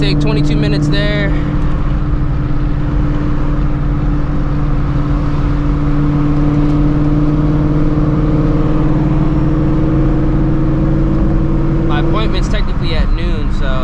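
A supercharged Shelby GT350 cruising on the I-45 highway, its engine holding a steady low drone with road and wind roar for most of the stretch before the pitch shifts near the end.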